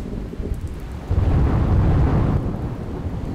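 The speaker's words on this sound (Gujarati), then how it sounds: "દીવના દરિયા કિનારાના વિસ્તારોમાં ધોધમાર વરસાદ" Heavy downpour along the Diu seashore brings a steady hiss of rain under a deep, swelling roll of thunder that peaks midway and then eases, loud and close, with no voices.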